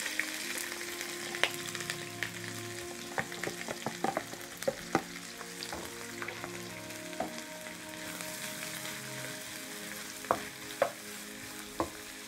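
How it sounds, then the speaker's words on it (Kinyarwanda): Onion and bell pepper fry in hot oil in a pan, giving a steady, close sizzle broken by frequent sharp clicks and scrapes of stirring, with no voices. "Rero tugiye gukaranga cya gitunguru cyacu na poivron, nibyo tugiye kubanzamo kuri ya panu"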